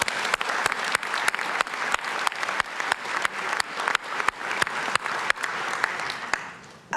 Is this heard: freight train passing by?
no